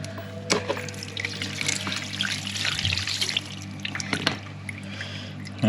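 Cold water runs from a bath tap in a flat's bathroom, a steady close trickling and splashing with a low hum underneath, fairly quiet and unbroken apart from a couple of brief knocks.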